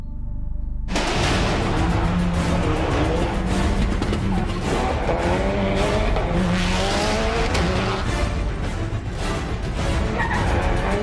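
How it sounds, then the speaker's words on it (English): A Subaru Impreza rally car sliding under power with squealing tyres and a roaring, steady engine, loud and close throughout, no talk. "Using amazing dexterity, Ken was demonstrating how to keep the car perfectly balanced at all times."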